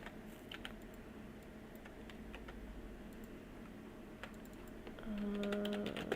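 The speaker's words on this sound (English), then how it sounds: "I'm keeping the keyboard Alt pushed just so I can copy paste it quickly, and I'm holding Shift to select all of these" Computer keyboard keys tapped in quick irregular clusters while building a Stardew Valley expansion mod, close and crisp, with a busier burst of clicks near the end.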